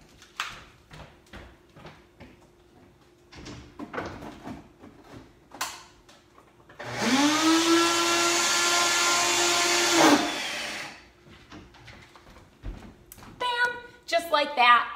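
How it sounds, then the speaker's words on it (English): A Ninja blender whisks an almond butter salad dressing, a loud steady whirring drone of about three seconds that starts and stops abruptly, with quieter kitchen clatter and handling sounds before and after it. "Because I've got my Ninja blender, I'm just gonna pop my top on, quick go give it a whisk"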